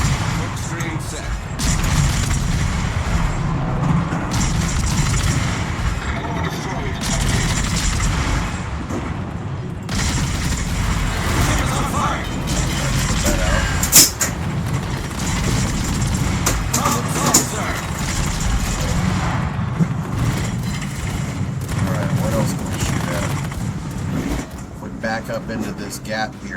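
Naval guns fire in the warship game World of Warships from a Minotaur cruiser during a sea battle. Repeated booming salvos and rumbling engine noise run steadily throughout, with a sharper blast near the middle.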